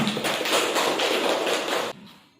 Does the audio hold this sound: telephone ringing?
no